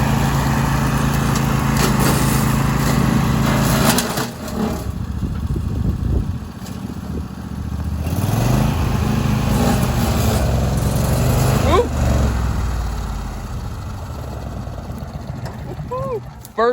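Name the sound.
DR PROMAX34 22hp tree mower cutting through brush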